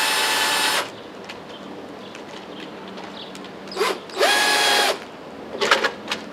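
A power drill whirs in short bursts while assembling a PC, a long one first, then a few quick pulses after a pause.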